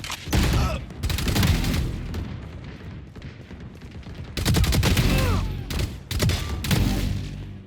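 Bursts of rapid rifle gunfire with heavy booms in Valorant, several loud volleys separated by short pauses.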